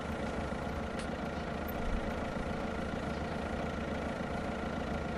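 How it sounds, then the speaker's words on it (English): A car engine in a VR driving game hums at a steady, moderate drone as the car eases into a parking spot, a constant low rumble with no clear rise in pitch and no talk. "Keep accelerating a little bit."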